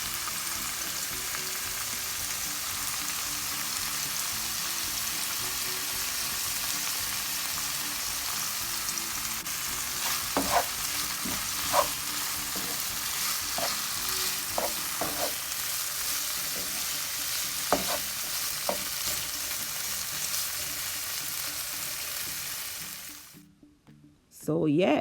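Tomato and oil frying in a pan while being stirred, heard as a steady close sizzle with scattered scraping and stirring clicks, then ending in a sudden cut to silence; a person talks over it.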